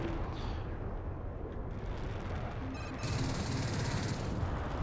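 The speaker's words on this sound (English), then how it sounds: "I missed my cannon shot." An aircraft cannon fires in the jet combat video game Metalstorm, heard as a dense, rattling burst of rapid gunfire over a loud, continuous engine roar, with the firing growing harsher toward the end.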